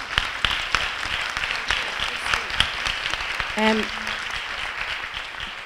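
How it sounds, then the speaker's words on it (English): Symposium audience applauding the panelists, a steady sustained round of clapping from a crowd that fills the room, with a brief spoken word near the end. "you should get a great big round of applause"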